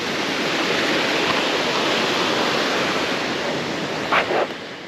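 A mountain river near Les Deux Alpes in the French Alps rushes steadily, a loud, constant broadband roar of flowing water that fills the whole clip, with a brief rise of extra splashing or wind near the end.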